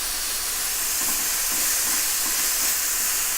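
Bulgogi beef sizzles in a hot frying pan, a steady, bright hiss and crackle heard close up without pause and with no talking.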